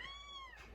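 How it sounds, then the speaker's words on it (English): A house cat lets out a brief, high, drawn-out scream, faint and slightly distant over a low background hum. "excuse the cat."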